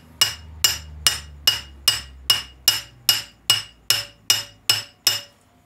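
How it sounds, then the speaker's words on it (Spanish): Twelve light hammer taps seat a part on a 2007 VW Passat, evenly spaced and sharp, each with a short metallic ring, close and clear with no talking. "Vamos a hacer unos golpecitos ligeros para que vaya entrando poco a poco"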